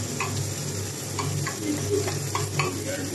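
Fried rice sizzles in a hot pan while a utensil stirs and flips it, giving a steady close frying hiss broken by regular scraping knocks.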